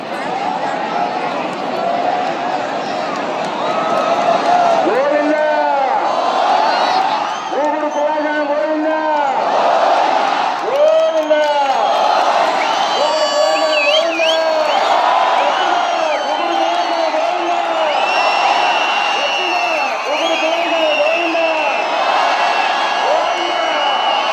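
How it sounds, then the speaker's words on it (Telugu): A crowd of devotees chanting together at a Muharram festival fire-walk, in a steady, repeating rhythm, loud and continuous throughout, with rising calls and some shouts mixed in. "దేవుడు పుల్లాయ స్వామి గోవింద."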